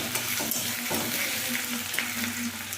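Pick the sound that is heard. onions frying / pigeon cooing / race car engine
onions frying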